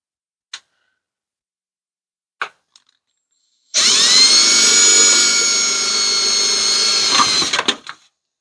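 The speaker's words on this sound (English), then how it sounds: "We're gonna drill a little hole through here." A power drill whirs steadily for about three and a half seconds, drilling a small hole through a model railroad building kit, loud and close, after a few faint clicks and taps, then winds down.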